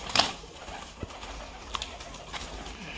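A pure blue wild-type wehshi pigeon held up in the hand gives soft cooing, with a brief burst that may be wing flapping at the very start, close by and alone over quiet room background.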